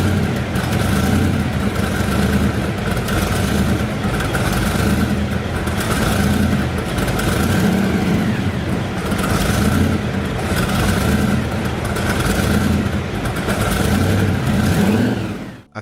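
A 1932 Ford 3-Window Coupe hot rod engine idles and revs in repeated surges, a loud, close, rough mechanical roar that swells and eases in steady cycles before cutting off at the end.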